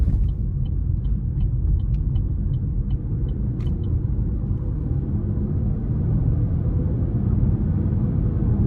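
The 1.2-liter turbocharged three-cylinder engine of a 2024 Chevrolet Trax gives a steady low cabin rumble while driving, with road noise and a few faint ticking clicks early on.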